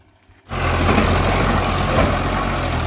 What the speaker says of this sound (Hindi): ओ भाई यहाँ पे ट्रैक्टर फंस चुका है